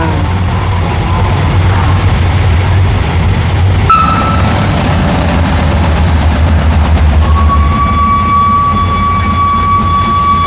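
A steam locomotive train roars past at close range, heavy and continuous, and a long steady whistle sounds through the second half.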